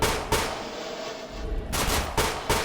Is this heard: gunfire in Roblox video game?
yes